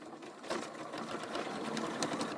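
A sewing machine stitches the zipper end shut on a box bag, a quiet steady whirring run of needle strokes lasting the whole moment without talk.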